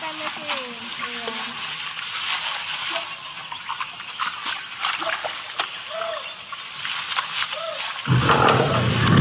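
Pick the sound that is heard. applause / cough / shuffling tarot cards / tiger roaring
tiger roaring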